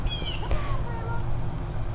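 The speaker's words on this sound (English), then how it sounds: "She is one of our senior Bobcats here at Big Cat Rescue." An elderly female bobcat at a big cat sanctuary gives a short, wavering meow-like call over steady outdoor background noise.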